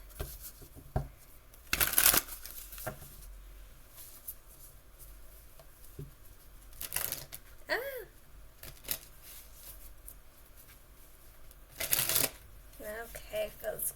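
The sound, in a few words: shuffling tarot cards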